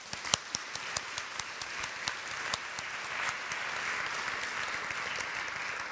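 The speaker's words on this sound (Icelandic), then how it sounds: "Við gefum meira klapp." An audience in a church service applauds, sharp individual claps at first that swell into a steady, dense wash of clapping from many hands.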